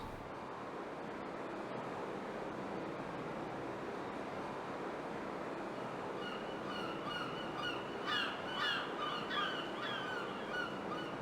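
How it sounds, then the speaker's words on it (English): Rooftop birds in Garry's Mod, a windy, surf-like ambient wash with a burst of honking, goose-like calls rising toward the end, moderately close and steady. "A lot more noisier with all the birds"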